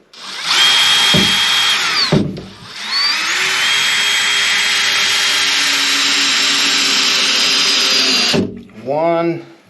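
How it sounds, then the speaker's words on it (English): Close, loud cordless drill whine driving screws into a wooden block for a ridge-beam cradle on an off-grid tiny house build, two long runs with a short burst between, then a brief pause and a last quick spin. "So I'm just going to put a few screws in here."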